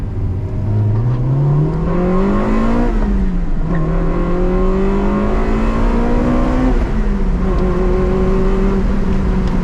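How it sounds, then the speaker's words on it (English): A JDM Honda Integra Type R engine revs hard through the gears on a dark road at night. Each loud, rising climb breaks into a sharper VTEC howl, with two brief dips at the shifts between pulls. "VTEC goes crazy, huh?"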